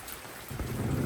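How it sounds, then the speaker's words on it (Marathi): Steady rain patters down on a vegetable garden in Konkan, a dense soft wash of drops growing slightly louder, with no voices. "पाऊस पण चांगला लागतोय आवाज येतोय"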